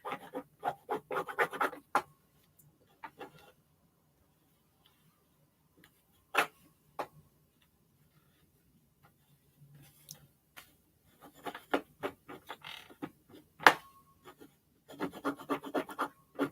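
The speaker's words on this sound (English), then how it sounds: "I rub this back and forth with that tip on this seam, and it lay them right on open" A tool tip rubbed back and forth along a fabric seam to press it open, quick bursts of dry scratching strokes separated by quiet pauses and isolated clicks, close and fairly faint, no talk.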